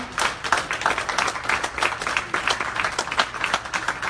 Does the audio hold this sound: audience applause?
yes